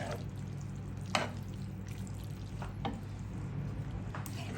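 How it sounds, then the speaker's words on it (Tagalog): Soft scraping and stirring of pasta in coconut milk in a pan over low heat, a steady background hum, with a few quiet clinks, close but faint. "Haluin natin ng haluin. Huwag titigilan hanggang sa ma-absorb nung pasta yung gata"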